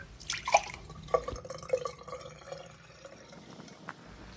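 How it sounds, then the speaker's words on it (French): Boiling water poured over sodium percarbonate for cleaning, with quiet irregular splashes and drips at the start, then fading trickles and faint droplets, soft and close. "je mets un peu de percarbonate et de l'eau bouillante"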